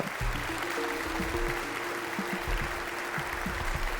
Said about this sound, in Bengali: জোরে হাততালি হয়ে যাক আমাদের নেক্সট 6 কন্টেস্টেন্টসদের জন্য।